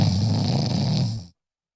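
A person snoring, a heavy, rough rumbling snore held steadily for just over a second before cutting off abruptly into silence.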